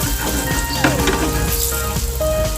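Garlic browns in hot oil with a loud, dense, continuous sizzle, crackling close up with some tonal kitchen noise in the background.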